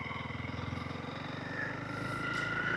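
A Honda CRF300L motorcycle rides down a road, its engine droning steadily up close with a rhythmic low pulse that rises slightly in pitch partway through, wind noise over the top.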